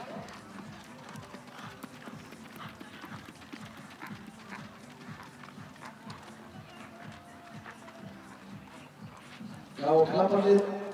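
Icelandic horses trot at a breeding show, hooves clip-clopping in a steady rhythm at moderate distance, with a louder burst of other sound near the end.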